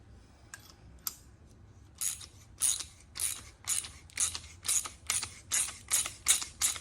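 A brand-new lug nut being threaded onto a tap by hand on a stroker Mustang, a few faint ticks followed by a steady series of rhythmic metallic ratcheting scrapes, close and clear with no talking.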